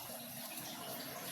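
Hot water pours in a steady, continuous broadband rush with no breaks, fairly close and alone without talk, while bananas are being cooked.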